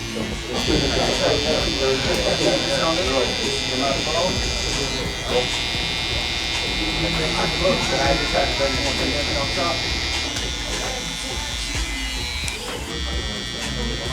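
An electric hair trimmer buzzes steadily and close throughout a high taper brush-back haircut, a constant whine heard under continuous conversation between barber and client.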